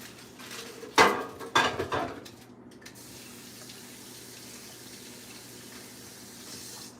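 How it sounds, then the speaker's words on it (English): Running kitchen tap water during hand washing while making a pumpkin cheesecake roll, opening with a few clattering knocks against the sink before a steady soft stream of water continues alone. "wash my hand one last time"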